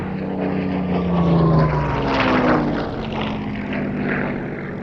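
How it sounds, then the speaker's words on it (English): A Spanish-built Bf 109 Buchon fitted with a Rolls-Royce Merlin engine flies at the Duxford Battle of Britain airshow. Its propeller engine drones loud and steady, swelling and shifting in pitch as the plane passes. "sounds more like a Rolls-Royce Merlin than the 109's original Junkers Umo or later Daimler-Benz DB601 and 605 engines"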